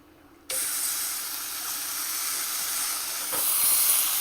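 Ham hits a very hot pan and a loud, steady sizzling hiss starts abruptly, holding continuous and close for several seconds and swelling slightly near the end, with no voices.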